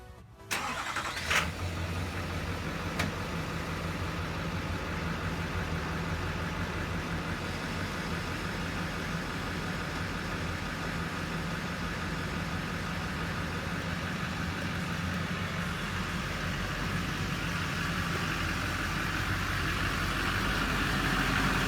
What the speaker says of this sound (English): Now we're going to start it up and get all the oils flowing into the oil filter and everything